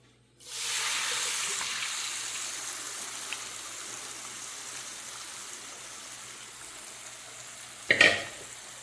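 Boiled potatoes tip into fried spice powders in a pan and set off a sudden loud sizzle that slowly fades into a steady hiss, with a sharp clatter near the end. No talking.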